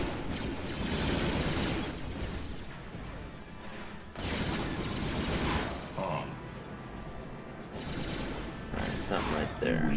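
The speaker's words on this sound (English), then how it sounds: "Now for the mortar." Mortar fire in Star Wars Empire at War, a battle scene with repeated heavy booming blasts and mechanical clatter; a second loud bang cluster lands near the end, with in-game voices and talk mixed over the din.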